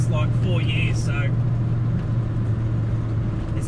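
A Ford Falcon XW GT with a 351 Windsor V8, driven for the first time in years, holds a steady, loud low engine drone throughout, with a brief higher sound near the start.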